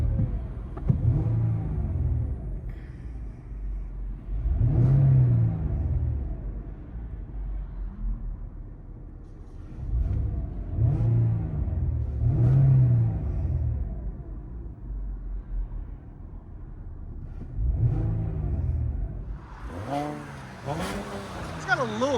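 Cabin view of a 2011 Porsche Panamera 4 with a 3.6L V6 and resonator delete: the engine swells in repeated revs and pulls, a deep rumbling drone rising and falling, with a rougher, noisier burst near the end.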